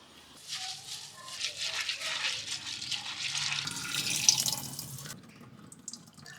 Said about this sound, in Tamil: தண்ணி ஊற்றி டைமர் வச்சுக்கோங்க.